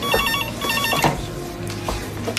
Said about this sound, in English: I'll just get the phone.